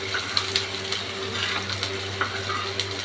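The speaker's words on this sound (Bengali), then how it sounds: "এবার একটু ভাজাভুজি করব এবারটা ভালো করে ভাজবো" Bottle gourd peels frying in a pan, a steady close sizzle dotted with small pops over a low hum.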